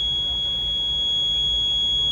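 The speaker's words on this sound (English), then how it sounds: "set your meter to ohms and continuity, and you hear the beep" A multimeter in continuity mode, probing the terminals of a Whirlpool dryer control timer, sounds one steady, unbroken high-pitched beep over a faint low hum.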